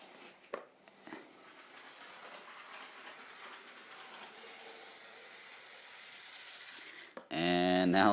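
Lego 9V toy train running at medium speed on its track, a faint steady whir and rattle with a couple of clicks early on, ending in a sudden loud buzzing burst.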